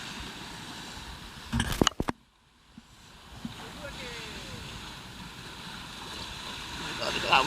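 Atlantic waves break and rush around a sailing boat at sea, a roaring wash of water with a sharp crash and gusting wind noise on the microphone, swelling again toward the end.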